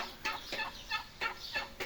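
White Canadian turkeys, second-generation birds, gobble in repeated loud bursts about every third of a second, close by, with no voices over them.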